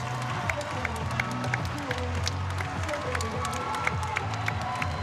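Arena crowd at a FIBA Asia Cup third-place basketball game between Jordan and New Zealand applauds and cheers in a steady, dense wash of clapping with scattered shouts.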